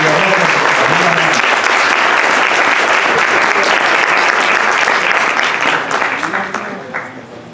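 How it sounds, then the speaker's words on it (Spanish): Loud, dense audience applause in a hospital event hall welcoming a doctor, steady sustained clapping from a large crowd that tapers off in the final seconds, with faint voices underneath. "le pedimos un fuerte aplauso a todos ustedes para recibir la doctora"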